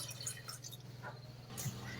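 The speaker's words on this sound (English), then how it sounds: "Now we're going to add in 1 cup of water." A cup of water pours into a cooking pot of chicken and peas, giving a soft, quiet trickle and splash that runs for about two seconds at close range.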